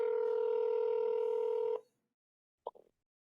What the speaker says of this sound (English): Let's see if Kenneth answers